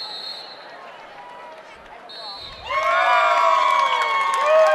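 A school crowd cheers for a Baca County wrestler at a 2012 CHSAA wrestling match, shouts and whoops swelling suddenly from a murmuring hall into a loud, sustained roar of many voices.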